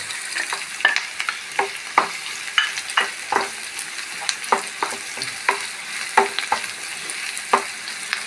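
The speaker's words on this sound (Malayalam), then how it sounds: "പിന്നെ ഒരു അഞ്ചാറ് വറ്റൽ മുളക് ഇട്ടുണ്ട്" Five or six dried red chillies fry in hot oil for a green peas stir-fry, with a close, steady sizzle broken by repeated scraping stirs of a spoon against the pan.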